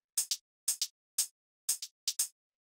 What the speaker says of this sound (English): So you can hear these are just two different hi-hats.